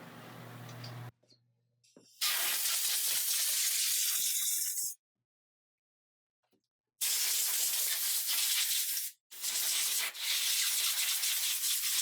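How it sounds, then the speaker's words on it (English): An air nozzle blows compressed air over a 3D-printed dental resin print from a NextDent 5100 printer in loud hissing bursts, separated by short breaks and one long silent pause. "let's take it to our air nozzle"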